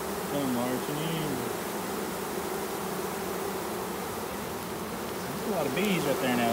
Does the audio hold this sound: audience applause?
no